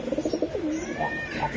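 Young male Kaldom pigeons coo nearby, beginning with a quick rhythmic burst of pulses and then giving a rolling, drawn-out coo, all close and clear without any speech.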